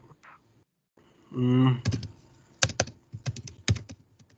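Keys tapped on a computer keyboard during a spoken-English lesson, irregular clicks and clusters of strokes close to the microphone, with brief voice sounds early on.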